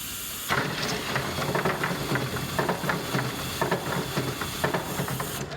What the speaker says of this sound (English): That's how we spin the control panel.